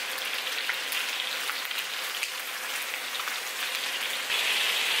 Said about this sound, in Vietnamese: Bây giờ mình sẽ chiên mặt còn lại khoảng 2 phút với lửa lớn.